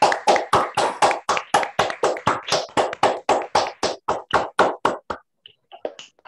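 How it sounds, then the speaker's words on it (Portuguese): Meeting participants clapping in a steady, evenly spaced rhythm, about twenty crisp claps close to the microphone, ending abruptly with a few scattered softer taps. "Tem que bater palmas, né?"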